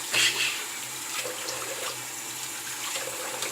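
Water runs steadily from a tap to soak a shaving brush during a daily wet shave, a close, continuous splashing hiss with a brief louder burst at the start and no talking.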